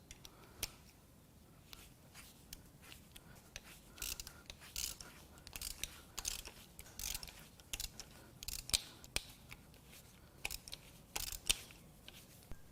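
A ratchet loosens cam cap bolts on a Jaguar 3.0 supercharged AJ V6 engine during a teardown, giving quiet, close, irregular runs of clicking with short pauses between turns.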